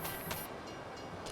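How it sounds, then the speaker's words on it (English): A train in the Farming Simulator 25 video game rolls past with a steady, dense rumble and hiss, a high whistle-like tone sounding early then fading, with no talk. "I know that's a train."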